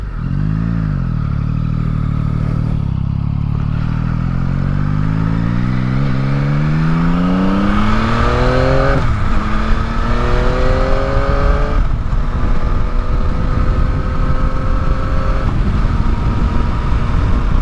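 A motorcycle, with a camera mounted sticking out to its left side, accelerates down a road; its loud engine climbs in pitch through several gear shifts, then holds a steady drone, with no talking.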